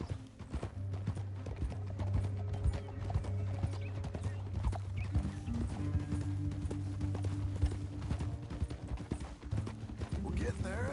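Hooves clop in a quick rhythm over a low droning background, a horse galloping steadily in the video game Red Dead Redemption II, with an occasional whinny-like tone.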